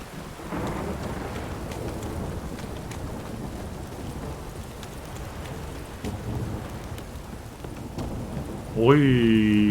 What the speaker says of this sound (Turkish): Oy, gece yarısı fırtına var havada.